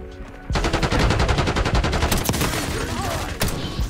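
Rapid automatic gunfire in the video game Black Ops 6, a loud sustained burst of shots with a few sharper cracks and no talk over it.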